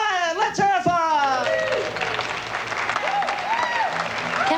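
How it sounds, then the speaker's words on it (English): Studio audience at a stand-up comedy show breaks into applause and a few whoops, following an announcer's voice, a steady crowd clap sustained to the end. "Sir Catherine Bryan, let's hear it for her."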